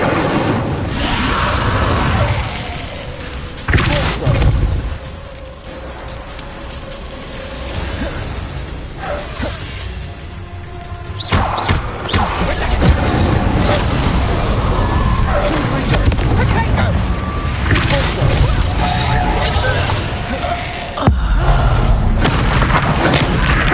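Incendio fire spells blasting in Hogwarts Legacy, a run of loud booming bursts and whooshes over busy game music and effects, with a voice talking at times.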